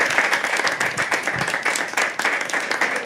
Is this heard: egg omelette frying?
no